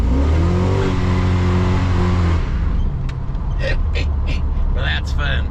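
An LS-swapped Chevrolet S-10 pickup on half-bald small tires revs hard and accelerates on a wet road, a loud close engine roar that drops off partway, leaving tire and road hiss with some brief talking.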